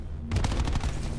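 A short, loud burst of rapid automatic gunfire in Call of Duty: Black Ops 4, close and punchy, starting abruptly after a brief quiet moment.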